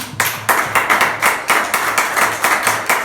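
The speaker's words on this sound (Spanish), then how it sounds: "Denle un aplauso" Hands clap in a fast, steady rhythm at a church service, crisp and close, repeating evenly with no speech over it.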